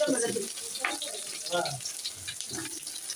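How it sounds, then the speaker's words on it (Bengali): Onions added to hot oil sizzle in a pan while cooking beef tehari, a soft crackling frying sound heard under a person speaking throughout. "এবার দিয়ে দিচ্ছি পেঁয়াজ"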